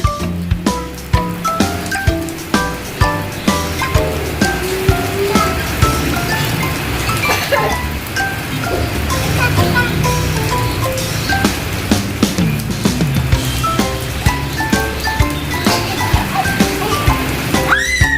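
Rain falls outdoors while children play, making a steady patter on surfaces. Scattered sharper drips and faint tonal sounds are heard throughout, with no clear talk.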